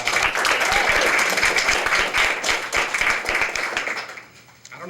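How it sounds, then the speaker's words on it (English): Loud applause at a school district board meeting, many hands clapping steadily before fading out near the end, with a person speaking briefly over it. "let's have a loud round of applause for Kathy"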